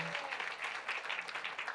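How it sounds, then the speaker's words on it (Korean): Church congregation applauding during a Sunday morning worship service, a steady wash of many hands clapping at moderate volume throughout, without speech. "박수 한번 합시다."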